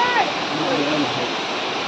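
Water rushes steadily at Kondi waterfall, a loud continuous broadband roar that stays even from start to finish, with a brief faint voice near the beginning.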